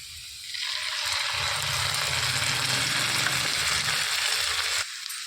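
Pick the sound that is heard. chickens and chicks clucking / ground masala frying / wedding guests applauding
ground masala frying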